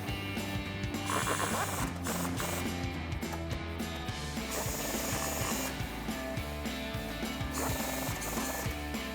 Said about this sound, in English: Now we'll come back up top and take a 13mm socket to tighten down your nuts.